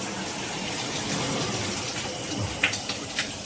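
Water streams from a VXV 8-inch dual filtered shower head with handheld and six spray settings, a steady broadband hiss with a few sharp drip-like splashes near the end.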